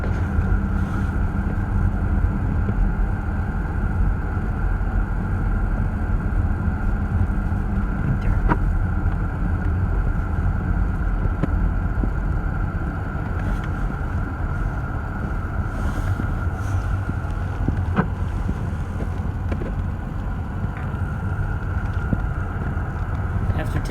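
Inside a car towing a teardrop trailer, a steady low road rumble and engine drone goes on unbroken, with wind noise and a faint constant hum layered over it.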